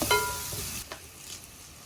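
Clams sautéing in a pan with crushed chili, a brief close sizzle and stirring scrape that fades after the first second, with no talk.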